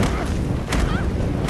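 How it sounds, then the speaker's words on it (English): Heavy booming blasts of grenades rumble continuously in a video game firefight, loud and dense, with overlapping explosions and a brief distorted voice or whistle-like tone in the mix. "So many grenades. They can't have that many grenades."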